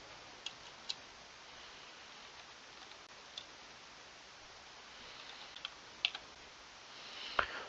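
Scattered, irregular keystrokes on a computer keyboard while typing Java code, faint and close against a steady hiss, with a few louder taps toward the end.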